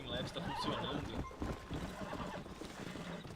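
A horse in the Western video game Red Dead Redemption neighs loudly up front, then hooves clip-clop in an uneven run, with game ambience and a voice talking underneath.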